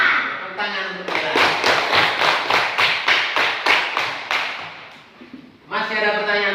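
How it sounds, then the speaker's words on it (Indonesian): Classroom clapping in steady, rhythmic unison, about a dozen loud claps at an even beat, with a voice speaking just before and after. "Tepuk tangan untuk kita."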